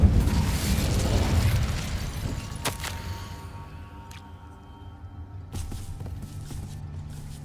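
The Incendio fire spell cast in Hogwarts Legacy, a loud whooshing burst of flame that fades over a few seconds, then a few sharp clicks and pops of game effects.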